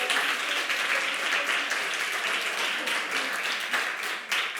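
Dense, steady applause from a large audience at a talk, sustained throughout at an even, fairly loud level before tapering slightly at the end.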